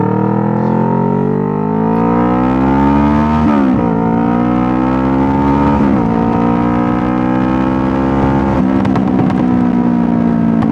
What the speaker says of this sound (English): Man, I love the sound of my motorcycle.